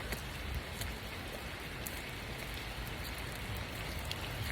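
Light rain falls steadily near a waterfall, a dense even hiss of drops with no voices, close and moderately loud throughout.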